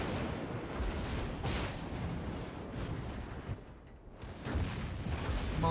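Secondary guns of the Mikasa warship firing in World of Warships, a dense run of booming blasts and rumbling explosions that continues throughout, briefly easing before resuming loudly.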